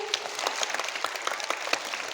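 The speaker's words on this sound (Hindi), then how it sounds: "यशवी के लिए तालियां बजाई जोरदार" A school audience at a children's poetry gathering in Aligarh claps for a young girl poet, a brisk, moderately loud patter of many hands that runs throughout.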